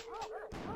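Aggressive mutant dogs in the video game Fatum Betula giving two or three quick yelping barks in rapid succession, close and fairly loud over a low background hum.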